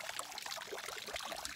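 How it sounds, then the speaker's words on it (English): Natural hot spring water trickling out of rock at Gila hot springs, a steady soft splashing and dribbling stream heard close and continuous. "This is the natural hot water coming out of this rock here."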